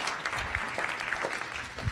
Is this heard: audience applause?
yes